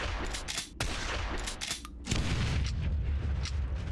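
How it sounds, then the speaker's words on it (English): Explosions and gunfire in the zombie game Zompiercer: a rapid burst of sharp cracks followed by a deep rumbling boom that lingers, loud and close. "Who doesn't like explosions?"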